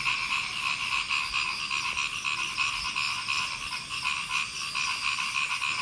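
A dense, steady chorus of crickets chirping at dusk as darkness falls in a rural Bangladeshi setting, with a continuous shrill trill that stays constant throughout and no voices.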